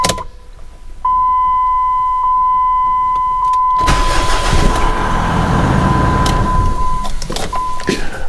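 A Jeep Liberty CRD 2.8L diesel in a heated shop cranks with a steady starter whine for a few seconds, then catches and settles into a loud close diesel idle.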